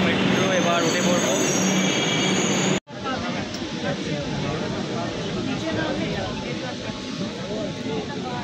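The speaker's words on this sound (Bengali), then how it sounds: "চলে এসছে আমাদের মেট্রো, এবার উঠে পড়বো।" A Kolkata Metro train pulls into an underwater station beneath the Ganges, a loud continuous roar with squealing wheels that cuts abruptly partway through, then resumes as a dense rumbling din, with people talking amid the noise.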